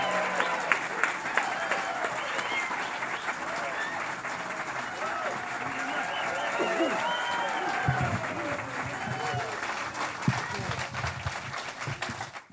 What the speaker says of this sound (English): Do me a favor, huge round of applause.